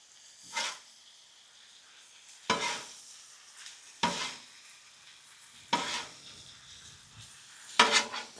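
Pico de gallo cooks in a pan with steak for a Tex-Mex Philly cheese steak, quiet sizzling under five sharp, separate scrapes of a utensil against the pan.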